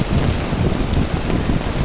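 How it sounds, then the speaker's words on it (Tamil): Heavy rain pours down in Tiruppur near a roadside pani puri stall at the new bus stand, a dense, loud, unbroken roar of falling water with gusty wind noise and no voices. "இன்றைக்கி செம்ம மழை திருப்பூரில், அடித்து ஊற்று முடிச்சுட்டு கிடக்கு."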